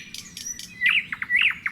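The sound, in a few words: nightingales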